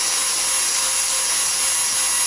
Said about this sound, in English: It's actually a biscuit jointer with a fitting attached to the end of it